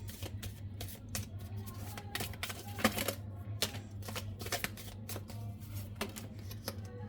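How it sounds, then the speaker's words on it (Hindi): Tarot cards shuffled and drawn from a deck, a steady run of soft papery riffles and snaps with a few sharper flicks, close and fairly quiet over a low background hum. "थोड़े से कार्ड्स और निकालते हैं, थोड़ा सा और क्लैरिफिकेशन ले लेते हैं।"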